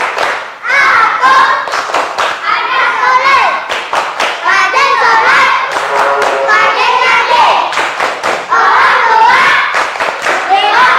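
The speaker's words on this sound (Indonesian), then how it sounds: "Tepuk semangat." A class of children claps a rhythmic spirit clap in quick, steady bursts of hand claps and thumps, mixed with excited young voices chanting and calling out, loud and close throughout.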